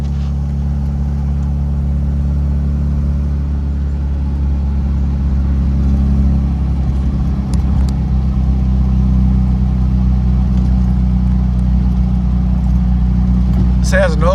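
A 1969 Datsun Roadster with an overhead-cam engine drives along, its steady engine drone loud and close as it moves through the gears, with a sharp squeal near the end.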